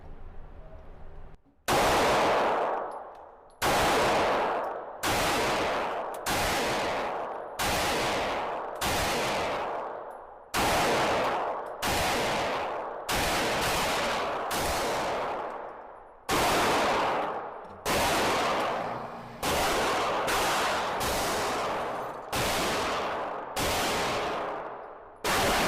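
Glock 45 Gen 5 pistol firing at an indoor shooting range from 25 feet: about twenty loud, sharp shots in an uneven string, each with a ringing indoor tail, with no talking.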